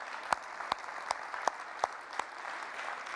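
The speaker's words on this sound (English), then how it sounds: "Let's give her a round of applause." Audience at the Orion Township State of the Township Address 2023 gives a faint, sparse round of applause, with distinct claps landing in a steady, evenly spaced rhythm over quiet room noise.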